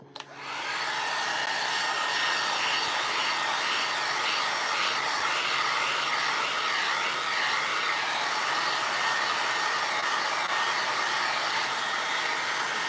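Hair dryer drying a small decoupage paper project coated with varnish and glue, a steady close airy roar that starts abruptly and holds without pause.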